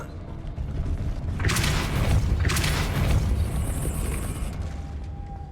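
A Depulso force spell cast in Hogwarts Legacy: a rumbling magical whoosh with two bright bursts of crackling energy over a steady low drone, loud and close.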